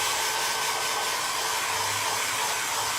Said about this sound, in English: let's hit this with a hairdryer really quickly